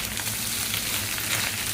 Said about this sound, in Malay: kita masukkan nasi. Okey, sekarang kita kacau sebati.